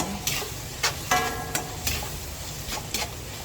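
Tofu hitting a hot pan with soy sauce, giving a soft steady sizzle broken by several brief bursts of stirring and scraping, close and moderately quiet with no talking.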